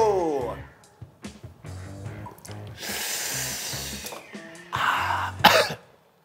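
A person coughs and clears their throat several times during a strong-tasting meal in Ninh Binh, Vietnam, with harsh close bursts mixed with voiced sounds and talk.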